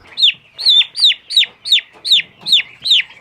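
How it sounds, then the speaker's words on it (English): Large Cornish cross turkeys give a rapid run of eight sharp, bright chirping peeps in a steady rhythm, close and loud, with quiet gaps between calls. "These are the Cornish cross of turkeys, look how big they are."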